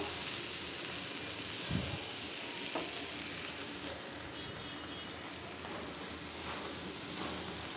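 Vegetable bhaji fries in a pan on a stove, giving a continuous close sizzle and crackle throughout, with a couple of faint clinks from stirring.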